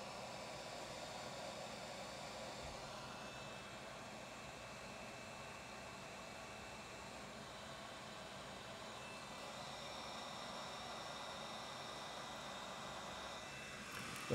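A heat gun blows hot air over heat shrink tubing on antenna wire for a ham radio dipole, giving a steady, close, continuous whooshing roar that holds an even level throughout with no talking.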